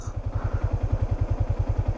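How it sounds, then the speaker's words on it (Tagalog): A motorcycle engine thumps in a fast, steady, close rhythm as it moves along a muddy rice terrace trail, with no voices over it. "tignan muna natin tong motor kung paano dumaan dito"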